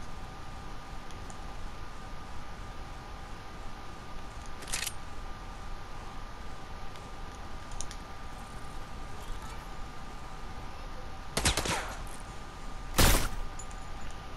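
Gunshots in a video game: three sharp, brief cracks, one isolated and two close together near the end, standing out over quiet background hiss and faint clicks.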